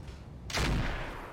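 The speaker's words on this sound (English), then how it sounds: "We hit with the auto cannon too." A single heavy autocannon shot fires in the BattleTech (RogueTech) mech game, a loud close burst that cuts in sharply and rings out briefly over a steady background rumble.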